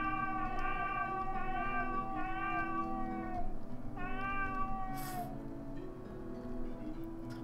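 Repeated meows from a cat character in the video game Blades of Heaven, several drawn-out calls in a row over a steady game background, fairly close and clear.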